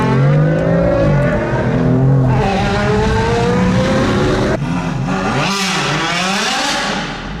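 Race car at speed on a Southern California track, a loud, close engine screaming and shifting through revs, rising and falling as it accelerates and passes, with no talk over it.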